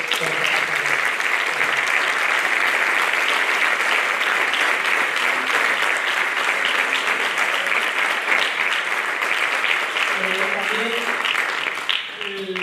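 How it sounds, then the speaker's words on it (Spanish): An audience at a mountaineering federation gala applauds: loud, sustained clapping from a large crowd that holds evenly for most of its length before thinning near the end. "Entonces yo quisiera que recibierais un fuerte aplauso de los tres."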